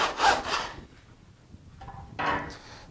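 Hand saw cutting through scrap wood, two bursts of rasping back-and-forth strokes separated by a brief quiet pause, close and clear with no talk.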